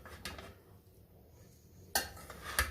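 A spoon stirs keema biryani in a cooking pot, with soft clinks and scrapes of metal against the pot, fairly faint and close, with a couple of sharper knocks.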